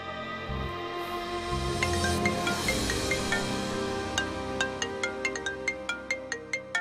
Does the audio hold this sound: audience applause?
no